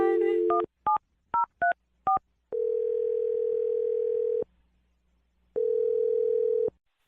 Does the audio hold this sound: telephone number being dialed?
yes